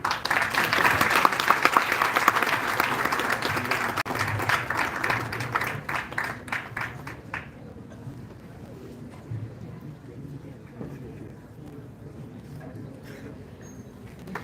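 A seminar audience breaks into dense applause that holds for several seconds and then thins to a few scattered claps, fading into room murmur.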